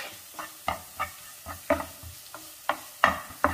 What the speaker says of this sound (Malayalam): മഞ്ഞൾപ്പൊടി ഈ എണ്ണയിൽ ഒന്ന് മൂത്ത് വന്നിട്ടുണ്ട്